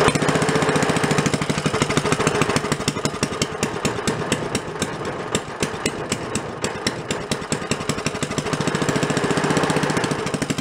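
An old $5 antique Briggs engine, a small lawnmower-type motor, runs with a loud, fast, steady knocking putter that dips slightly in the middle then swells again.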